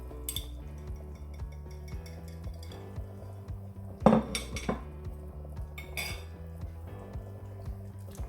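Egg koftas get stirred with garam masala in a metal pot, giving soft scrapes and a few sharp spoon clinks against the rim, fairly quiet and close, with no voices.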